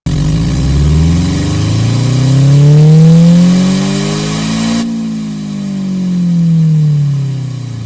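Synthesized gasoline car engine revving, its pitch sweeping up and down in two smooth waves with a steady mechanical drone and no voices.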